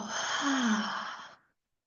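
A single long, deep exhale during a guided breathing meditation, a soft breathy sigh lasting about a second and a half, close and clear, with no talking over it.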